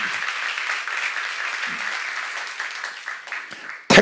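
Church congregation applauding during a sermon at a Korean church seminar, a dense, steady wash of many hands clapping that carries on for several seconds before a sharp louder burst at the end.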